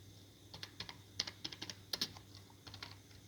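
C code typed on a computer keyboard, a quiet run of uneven key clicks in quick bursts with short pauses between them.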